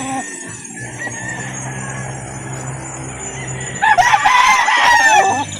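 Gamecocks for sale at a rooster market in Calauan, Laguna, crow loudly and close by, including Kelso and other fighting breeds. A low hum of voices and clucking runs underneath, and a strong burst of crowing fills the last two seconds.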